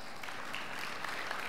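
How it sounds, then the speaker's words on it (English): Faint, even applause from a conference audience at FreedomFest 2018, a soft distant wash of clapping with no clear peaks or voices. "let's give those people a round of applause"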